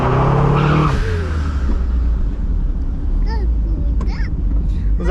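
A $1300 auction Mazda Miata accelerates and revs from inside the cabin, a loud engine drone that rises then settles into steady road rumble, with brief voices over it.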